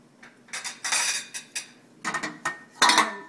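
Metal pans are moved and knocked around on a stovetop while cooking lemongrass stir-fry beef, producing a series of close clinks, scrapes and clatters in uneven bursts.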